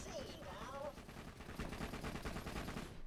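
Video game gunfire, a Tufang pistol shooting in rapid repeated bursts amid busy game noise, with a short voice-like sound early on and dense crackling shots toward the end.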